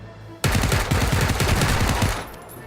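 Rapid automatic gunfire in PlayerUnknown's Battlegrounds rattles in a loud, steady burst of evenly spaced shots lasting about a second and a half, then cuts off abruptly.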